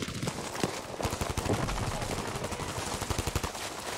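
Rapid rifle fire from an FG42 and a BAR in a Battlefield V battle, dense repeated shots in quick bursts, close and loud, with a faint voice underneath at times.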